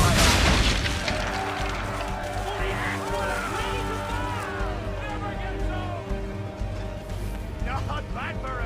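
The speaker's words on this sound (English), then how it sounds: "Hit those old powder barrels and light up the sky." Swivel gun fire and exploding powder barrels in the naval battle of Assassin's Creed 3, a heavy boom at the start decaying into a rumbling wash over sea noise, with characters talking throughout.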